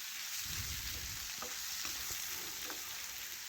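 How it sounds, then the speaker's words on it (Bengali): Pointed gourd, potato and carrot pieces frying in a pan, producing a constant hissing sizzle at close range, with a few soft scraping strokes as they are stirred. "এভাবে ভাজতে ভাজতে একটু ভালো করে কষে নিচ্ছি।"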